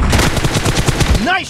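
Rapid automatic gunfire from a PUBG Mobile team deathmatch, a dense, loud stream of shots rattling steadily for over a second before breaking off, with no talk over it.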